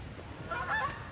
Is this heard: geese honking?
yes